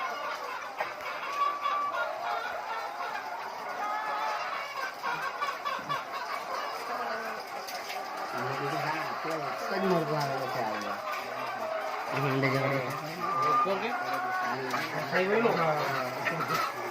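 Thousands of laying hens on a poultry farm cluck and chatter continuously in a dense background chorus, with people talking over the flock throughout.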